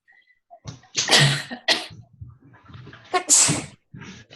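A sudden nearby sneeze bursts out sharply, followed by a brief pause and a second sharp sneeze-like burst, loud and close.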